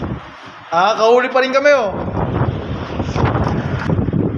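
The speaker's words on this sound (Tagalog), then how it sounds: "Kahit malakas ang hangin, oh." Strong wind at sea buffets a fishing boat, a rough, gusting rush across the microphone, while someone talks briefly over it near the start.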